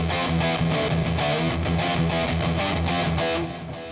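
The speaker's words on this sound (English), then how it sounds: "That's a 2-rock Cardiff distortion." A guitar plays through a Lekato PA-1 pocket amp on its 2-Rock Cardiff distortion setting, giving a thick, saturated, sustained tone with steady chugging chords that fade slightly at the end.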